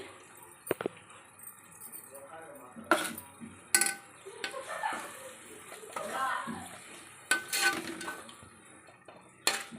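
Washed goat tripe (boti) being added to a cooking pot for bottle gourd boti sherva, with wet plops, a metal pot clanking and spoon clinks, close and intermittent, under a woman's speech.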